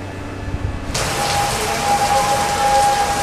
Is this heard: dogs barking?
no